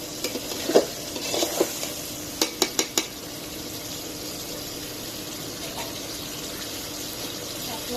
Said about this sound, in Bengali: সুন্দর করে কষাই নিচ্ছি।